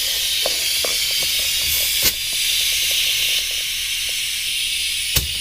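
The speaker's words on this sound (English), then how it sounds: "Now I'm going to go ahead and fill this up with some air." A steady, loud hiss of compressed air filling a pressure cooker pot with the lid screwed down tight, continuous throughout with faint clicks underneath and a couple of brief sharper pops.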